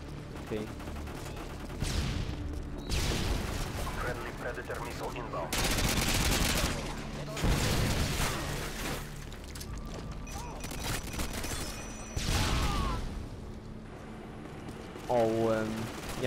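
Repeated bursts of rapid gunfire with FMJ rounds in Call of Duty, loud and close, coming in clusters separated by short lulls, with someone talking over parts of it.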